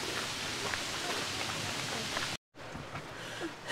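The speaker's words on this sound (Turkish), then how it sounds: "Ormanın içinde de yağmuru hissediyoruz artık." Steady rain hisses through a forest, a dense, loud wash broken by a brief dropout and a few footfall-like thumps, with no clear talk.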